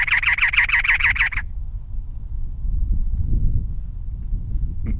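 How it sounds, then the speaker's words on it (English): A harsh, rapid chattering cactus wren call repeats for about a second, followed by quiet outdoor rumble and a faint distant chirp. "we recognize that's a cactus wren"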